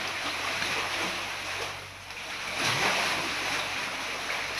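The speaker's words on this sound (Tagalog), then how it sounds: "Lakas ng alon." Strong ocean waves surge and wash near a sea cave, a continuous rushing roar with a swelling crash midway, accompanied by some wind noise on the microphone.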